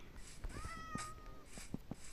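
A small cat in the Minecraft video game meows, a rising then falling tonal cry near the middle, with light game clicks and soft background noise around it.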